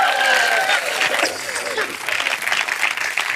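An audience applauds and cheers after a stage magic trick, loud dense clapping with voices calling out over it, fluctuating rather than steady.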